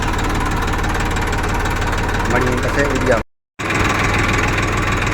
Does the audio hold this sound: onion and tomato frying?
no